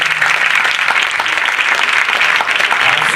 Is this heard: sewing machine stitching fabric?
no